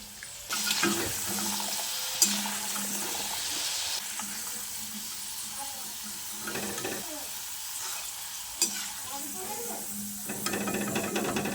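Potato peel snacks deep-fry in oil in a wok over a medium gas flame, giving a steady close bubbling sizzle with a few sharp clinks of a utensil.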